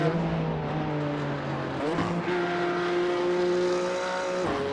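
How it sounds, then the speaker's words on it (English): Simulated BMW M2 engine in iRacing at Okayama, heard from the cockpit under braking as it downshifts, with steady loud engine tones dropping in pitch and jumping at each gear change, continuous with no talking. "I brake and I'm like downshifting until like I hear the car downshifting"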